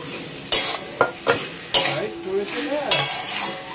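Fried prawns tossed into a pan of fresh taro greens, a spatula scraping and knocking against the pan in a few sharp strokes over a soft sizzle, close and clear.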